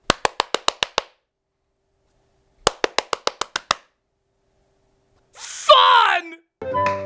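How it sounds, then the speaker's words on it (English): Two quick bursts of rhythmic hand claps, about seven claps each and close by, steer a robotic toy cat, separated by silence. A voice speaks briefly afterward. "His sister made it go right or left just by clapping her hands."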